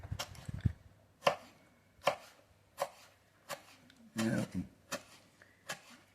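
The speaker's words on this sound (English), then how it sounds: "I'm cutting them very, very thin." A sharp knife slices dragon fruit skin very thinly on a cutting board, making about eight crisp, evenly paced chops. Low background hum sits underneath.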